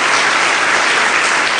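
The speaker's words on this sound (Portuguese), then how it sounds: "Dê uma salva de palmas a Jesus." A church congregation claps loudly in a dense, unbroken burst of applause, a brief and close wall of many hands with no speech over it.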